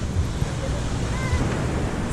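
Pacific surf washes onto the beach at Sayulita, Mexico, a steady broadband rush of breaking waves mixed with wind buffeting the microphone.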